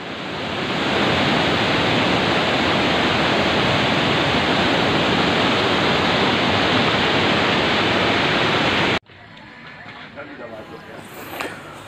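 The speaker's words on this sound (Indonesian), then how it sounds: "Airnya deras sekali" A swift river on a fishing outing rushes steadily and loudly for about nine seconds. Then it cuts off abruptly to a much quieter background with faint voices.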